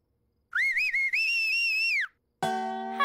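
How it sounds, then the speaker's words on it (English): A person whistles a bright, wavering tune for about one and a half seconds, then after a short pause breaks into a second, harsher, buzzier whistle, close and clear with no talking. "You mean this whistle?"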